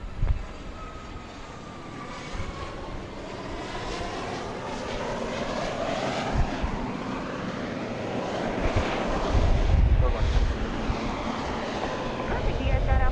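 A Southwest airliner lands at Dallas Love Field at night, its jet engines roaring steadily and growing louder toward the end, with radio chatter heard under the engine noise.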